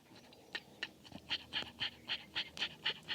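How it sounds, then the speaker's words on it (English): A dog pants rapidly and steadily close by outdoors in hot weather, quick rhythmic breaths repeating about three times a second, with no talking. "You probably hear Fred panting right here."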